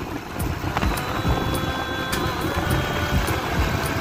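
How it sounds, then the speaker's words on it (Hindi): Strong wind outdoors on a road past open farm fields near Indore, gusting and buffeting hard against the microphone in a continuous low roar with uneven surges, with no talking. "काफ़ी तेज़ हवा चल रही है और मुझे ज़ोर से भी बोलना पड़ रहा है।"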